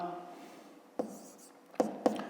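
A math solution is written by hand with a pen or chalk, a few short scratchy strokes tapping close by after a murmured voice fades.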